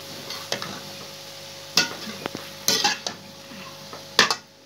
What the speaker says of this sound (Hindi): अब मैं डाल रही हूँ ये चिकन सारा